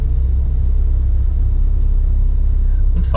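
A car's interior rumbles with a steady low engine and road drone during a relaxed driving lesson through Tübingen, a constant close hum with no one talking.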